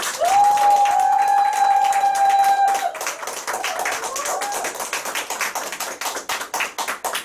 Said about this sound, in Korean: 우리 이순희 선생님 나오실 때 큰 박수 부탁드리겠습니다